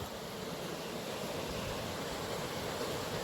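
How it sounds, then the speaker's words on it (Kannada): Arabian Sea waves wash in steadily where the Gomti river flows into the sea at Dwarka, a continuous broad surf roar with no voices. "ಇದು ಅಲೆಗಳು ಸಮುದ್ರದ್ದು"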